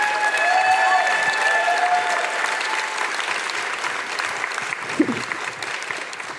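A community meeting audience claps for Becky, honouring her hard work, in steady applause that starts strong and slowly thins, with a voice briefly heard early on.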